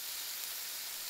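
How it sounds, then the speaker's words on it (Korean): Meat marinated in natural fruit juice sizzles on a grill, giving a faint, steady high hiss for a brief moment with no voices. "지글지글 구워지는 고기."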